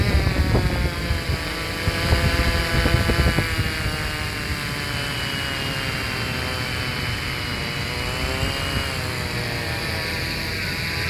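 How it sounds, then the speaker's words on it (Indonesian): A Fimi X8 SE drone flies and descends at night under an automatic landing command, giving a steady, loud buzzing whine of propellers with no talk over it. "Kita turunkan drone-nya pakai tombol otomatis."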